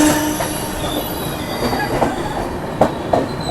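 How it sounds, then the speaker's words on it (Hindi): A train rolls into Durg Junction railway station, with a steady rumble of wheels, brief metallic squeals and a few sharp clanks near the end, loud and close with no talk. "चलिए यहाँ पर अभी अपनी ट्रेन पहुँच रही है दुर्ग जंक्शन रेलवे स्टेशन पर"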